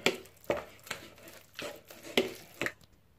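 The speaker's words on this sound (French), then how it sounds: "Et je vais tout mélanger avec une fourchette" A fork mixing ingredients with olive oil in a dish, giving close, rhythmic taps and clinks about twice a second, crisp and distinct, with no voices.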